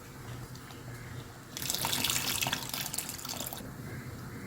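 Tamarind water pours into a pot of mango sambar, a short, bright splashing gush that swells for about two seconds and then tapers back to a quiet background.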